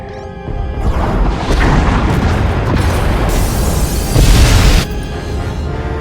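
Massive explosion ripping through escape pod bays in the sci-fi game Star Wars: The Old Republic, a dense, sustained roaring blast with layered debris crashes and a second surge near the end, loud and without speech.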